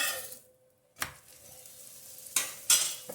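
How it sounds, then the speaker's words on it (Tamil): Aloo paratha frying in oil on a pan, a soft sizzle with stirring and scraping sounds, sharp clatters near the start and end, close and moderately loud, no talking. "லைட்டாக ஒரு சைடு முதல்ல எண்ணெய் ஊற்றிக்கிங்க."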